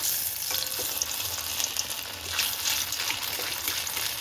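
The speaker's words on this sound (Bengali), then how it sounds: "এটাও আরেকটা হাই ফ্লেমে ভেজে নিচ্ছি, উল্টিয়ে দিচ্ছি।" Malpua fry in oil over a high flame with a constant, close crackling sizzle and occasional louder pops and spatters.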